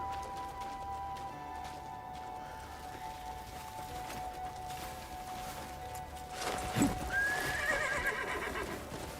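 A horse in the video game Crimson Desert lets out a single loud whinny near the end, with hoofbeats clopping beneath it, over a low steady ambient hum.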